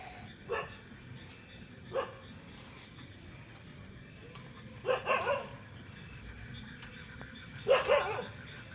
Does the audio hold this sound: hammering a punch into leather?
no